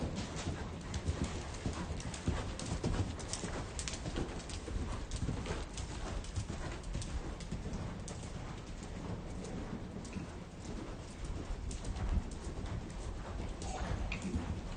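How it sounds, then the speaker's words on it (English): A horse canters in a rhythmic three-beat pattern, hoofbeats thudding steadily and close under a continuous rushing background, with occasional spoken instruction. "Establishing a nice rhythmic canter."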